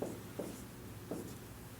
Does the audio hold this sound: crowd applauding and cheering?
no